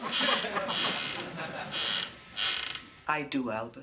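A rocking chair creaks in slow repeated groans as it rocks back and forth, fairly close and steady, before a person speaks briefly near the end.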